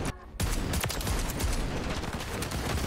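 A semi-auto shotgun fires in Modern Warfare 3, heavy close blasts repeating rapidly over a dense, loud wash of in-game battle noise after a brief quiet gap at the start.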